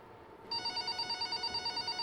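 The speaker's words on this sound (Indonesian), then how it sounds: "Mbak Widya, ada telepon masuk?" An incoming call rings on a telephone at a radio broadcast, with a repeating electronic ring pulsing rhythmically after a brief quiet start.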